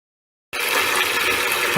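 Water rushes steadily into a 5-gallon bucket while a reverse osmosis system is flushed, starting abruptly after a short silence and continuing loud and close without a pause.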